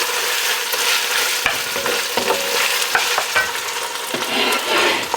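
Ingredients stirred in a cooking pot while preparing smoked Southern Italian pork shoulder, a steady close sizzle with soft scraping and occasional clinks from the utensil, continuous and without speech.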